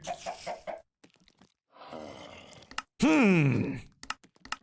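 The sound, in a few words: chicken clucking in Minecraft video game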